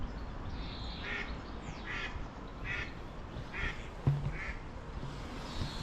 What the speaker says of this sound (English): Here comes the ducks.